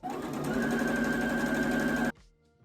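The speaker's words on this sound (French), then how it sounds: "Ici, on va remonter la vitesse et on va coudre à fond." A sewing machine runs flat out at high speed, a steady loud whirring hum for about two seconds before stopping abruptly, leaving a faint quiet tail.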